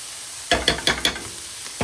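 Frozen sofrito in a hot pan gives a series of five sharp, close sizzling bursts roughly two tenths of a second apart, like stirring strokes, then a brief pause and one more burst.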